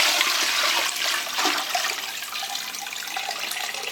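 Steady rushing water pours continuously into a pot holding chicken for broth, a full gushing stream with no speech.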